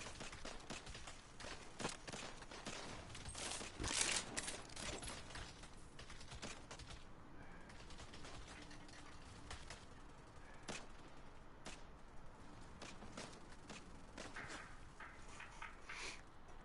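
Gunfire in Saints Row: rapid bursts of sharp shots and clattering mechanical noise that keep recurring, heaviest early on, all fairly distant and faint.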